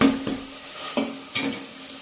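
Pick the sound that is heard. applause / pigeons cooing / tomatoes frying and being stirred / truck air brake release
tomatoes frying and being stirred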